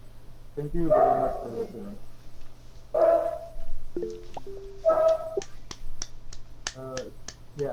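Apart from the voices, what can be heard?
dog barking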